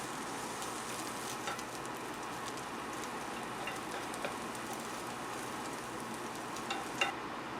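Beef searing in a pan for beef barley soup, giving a steady, fairly quiet broadband sizzle that holds evenly throughout with a few small pops near the end.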